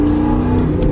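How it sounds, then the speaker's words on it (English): A car engine blips up in a quick rev-match during a downshift into second gear, a brief loud rising tone heard from inside the car. "I'm gonna rev match the 2nd right now."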